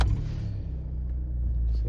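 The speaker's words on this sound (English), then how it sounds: "Just turn the car on." A Volkswagen Polo Mk5 (6R) idles as a steady low engine rumble that runs through the whole stretch, close and continuous, with no voices over it.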